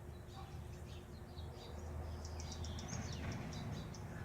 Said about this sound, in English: there's a mockingbird, there's a hummingbird, there's some kind of little bird